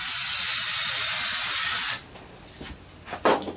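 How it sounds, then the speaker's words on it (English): A continuous close spray of glue onto knife steel hisses for about two seconds, then stops, followed by faint rustling and a few soft handling noises. "so you take your glue, spray it on the steel"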